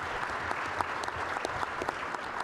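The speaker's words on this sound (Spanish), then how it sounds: "les pediría un aplauso fuerte para todos nuestros presentadores" Audience applause for presenters after an afternoon session on RIPE NCC information services, a dense, even roar of many hands clapping, continuous and moderately loud with no speech.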